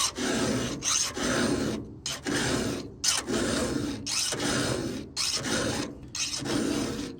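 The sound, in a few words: filing a Husqvarna 500i chainsaw chain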